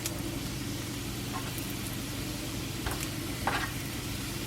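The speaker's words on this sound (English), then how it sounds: "What we were doing, our bacon, let's give it a flip." Bacon strips sizzle and fry in a hot pan, making a steady, even hiss that stays close. There are a few faint clinks near the end and no talking.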